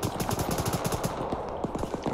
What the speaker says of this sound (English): It sounds like we're getting shot at from a room, too.